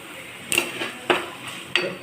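A spoon scrapes and clinks against a pan while Kashmiri chili powder is stirred over a low flame, giving three sharp, evenly spaced metallic taps with soft scraping between them.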